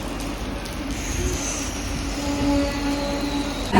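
A Mumbai local train running toward Churchgate during Ganpati festival travel, a steady rumbling roll of the moving carriage with a faint high whine, continuous and fairly close, no talking.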